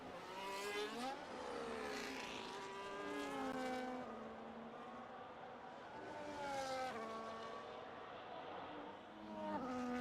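Race cars in a sim racing league round at Austria pass one after another, engines whining with rising and falling pitch sweeps as each nears and recedes, loud and continuous with no talk.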